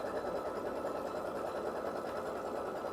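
A sewing machine runs a steady two-ply tacking stitch around a fabric square, a continuous close motor hum with a fast, even needle rhythm and no voices.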